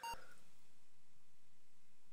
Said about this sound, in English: You should have heard a beep there.